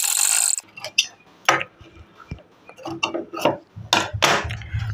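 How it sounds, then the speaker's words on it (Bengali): A sewing machine stitching over a pinned sleeve seam, running in short mechanical bursts with pauses between, fairly loud and close, with a few soft handling clicks and brief talk. "এবার এটার উপর দিয়েও একটা সেলাই করে নেব।"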